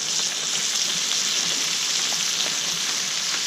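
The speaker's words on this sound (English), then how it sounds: "It will start to sizzle." Scallops and clams sizzle in a frying pan, a steady, dense hiss with faint crackles that runs continuously at moderate loudness without talk.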